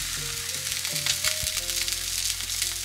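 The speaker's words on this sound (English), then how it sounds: "Turn the heat to medium and grill the flesh. Grill for 4 to 5 minutes." Salt-grilled mackerel sizzles loudly and continuously in a pan over medium heat, a dense hiss with crackling pops and no talking.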